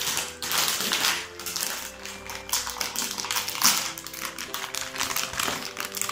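Rustling and tapping from handling a box of Christmas extra-dark cocoa chocolate pralines with cream filling, the package crinkling and clicking continuously at close range with no talk.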